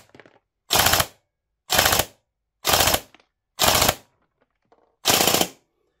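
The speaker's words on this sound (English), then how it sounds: "we'll keep firing it. We'll empty the mag" Silverback MDR-X airsoft rifle with a 100% cylinder firing repeatedly to empty its magazine: five loud, sharp, evenly spaced shots about a second apart, each a brief broadband crack, with near-silence between them.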